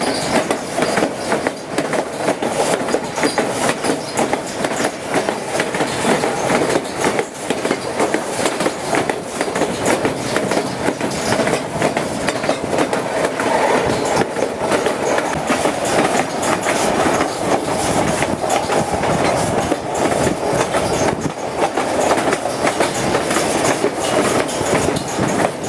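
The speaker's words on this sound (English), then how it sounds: "train in motion" A train rumbles steadily along the tracks near Skagway, Alaska, with a continuous clattering of wheels, loud and close, without pause throughout.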